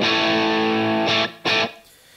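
A guitar played through an amp set for crunchy JCM 800-style distortion rings out with a sustained chord, then two short, hard stabs before the sound falls away.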